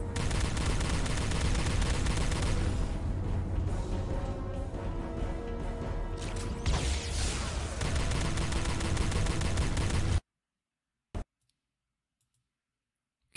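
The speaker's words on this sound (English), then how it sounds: "No matter how much you shoot him, you can't kill him." Phaser rifle fire aimed at a Ferengi in the Star Trek Elite Force 2 video game, a dense, continuous stream of loud shots and clicks lasting about ten seconds, then cutting off abruptly to near silence with one brief burst.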